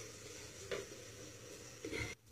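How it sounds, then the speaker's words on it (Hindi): Semolina roasts in a pan for beetroot halwa with a faint, steady dry sizzle and two soft scraping stirs of a spoon. "उस सूजी को भूनिए, उस सूजी को हम भूनेंगे ताकि उस सूजी कच्ची नहीं रहे"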